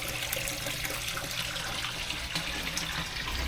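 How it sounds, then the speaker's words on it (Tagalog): A pond water pump feeding a concrete filtration setup keeps up a steady, close rush of splashing, falling water with no breaks. "ito yung water pump ko"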